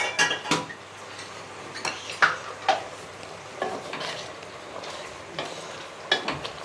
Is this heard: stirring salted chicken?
yes